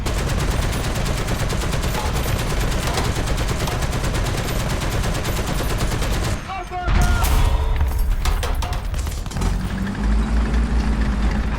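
Tank gunfire in War Thunder with a US T26 tank: continuous rattling bursts of game weapons fire under engine rumble, a sharp heavy blast partway through, then more firing. A voice talks over the action.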